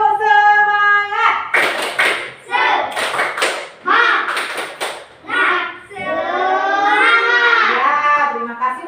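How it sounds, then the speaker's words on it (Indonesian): Children in an Indonesian primary classroom perform a rhythmic spirit clap, bursts of group hand claps in patterned beats mixed with chanting voices, led by a teacher who speaks at the start. "Ulangi lagi sekali, tepuk semangat."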